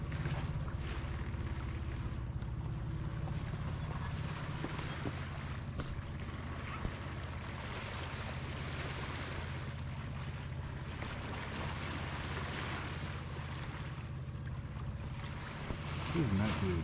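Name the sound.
sailboat under sail on the sea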